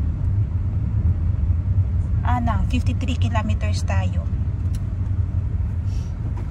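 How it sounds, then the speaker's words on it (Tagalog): Steady low rumble of road traffic heard from inside a moving car, with many vehicles around, continuous throughout while a voice speaks briefly near the middle. "Kasi nga traffic, maraming sasakyan."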